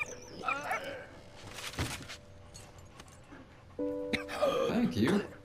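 A dog in a World War I video game gives a few short barks and yips, fairly close, over background game sounds and someone talking.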